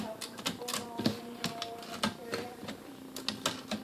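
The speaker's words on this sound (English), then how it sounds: "let's do a little type test with it. 1968 Consul Model 232" A 1968 Consul Model 232 manual typewriter typing, with irregular sharp key strikes clacking in quick bursts and a faint mechanical rattle between them.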